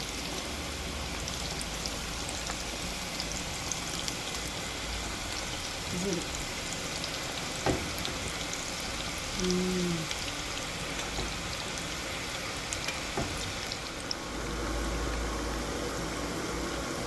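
Frying in hot oil for Tunisian chebtiya, a dense, even hiss and crackle that holds steady at close range throughout, with a brief faint tone partway through.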